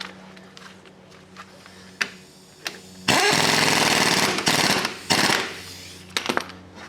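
An impact wrench drives the crank bolt home on a 1987 Toyota Camry engine during a timing belt job, a loud, steady, rattling hammer lasting a couple of seconds. A few metallic clinks of tools come before and after.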